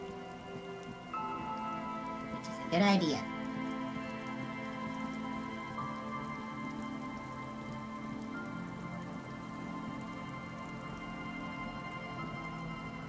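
Steady rain patters throughout a nighttime scene in the video game Disco Elysium, a constant even hiss of drops with one brief louder splash; a voice speaks briefly over it.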